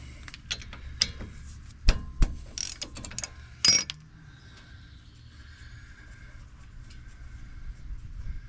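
A ratchet works on a brake caliper bracket bolt of a 2015 Ram 2500, giving bursts of clicking and metallic clanks up close, followed by quieter faint shuffling.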